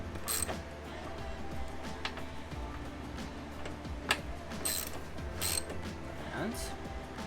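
Close, quiet mechanical clicking and ratcheting while a hose clamp on a Hyundai Veloster N blow off valve is hand-tightened, with scattered sharp ticks over a steady low hum.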